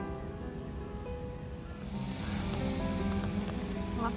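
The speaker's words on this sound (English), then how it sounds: "Here's the river as she flows at the moment." River in flood-prone country on the Fraser Coast flowing steadily, a broad continuous wash of water noise that swells louder partway through, heard at moderate distance with no talking.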